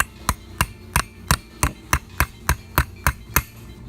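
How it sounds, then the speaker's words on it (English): A hammer lightly taps a DSM fuel injector part into place during an injector rebuild for an '89 Acura Integra turbo, twelve sharp evenly spaced knocks close by, steady and alone. "then you want to take a hammer and just lightly hammer the rest of it in."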